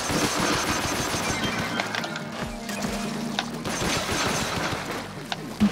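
Grizzco Blaster explosions in a video game: dense, rapid mechanical clatter and repeated bursts forming a steady, busy wash of game sound with short sharp impacts throughout and no talking.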